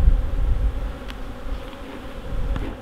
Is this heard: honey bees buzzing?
yes